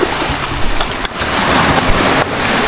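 Loud, continuous roar of surf with waves washing in, broadband and rushing, brief dips as one wave breaks into the next; no voices.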